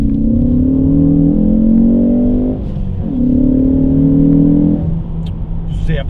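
A tuned Ford Focus ST with a turbo-back exhaust and carbon tailpipes drones loudly under load, holding a steady rising note, dipping briefly, then pulling again before settling.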